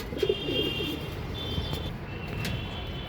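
Madrasi pigeons coo in low, soft, throaty bursts close by, with faint chirps and outdoor background hum around them.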